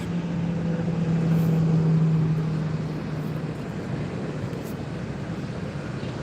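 A Jet2 airliner taxis at Gran Canaria Airport, giving a steady, fairly distant engine rumble with a low hum that swells and then eases slightly, with no talking over it.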